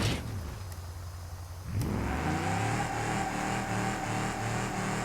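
A D-Series truck engine in BeamNG.drive idles briefly and then revs up into a steady, loud, throbbing drone that holds to the end, close and unaccompanied.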